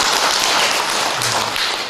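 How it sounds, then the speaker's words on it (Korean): A church congregation applauds during a Sunday worship service, a dense, steady round of clapping that fills the short clip and tapers slightly at the end. "박수 한번 해볼까요?"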